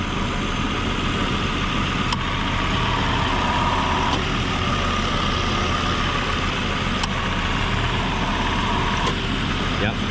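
The AC compressor clutch on a 1996 Volvo 850R engine cycling on and off, heard as a few faint clicks over a steady, close idling engine hum.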